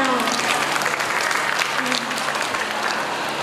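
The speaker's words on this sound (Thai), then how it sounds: "ขอเสียงปรบมือด้วยค่ะ" Sustained applause from an audience at a singing audition, a thick steady wash of clapping with faint voices mixed in.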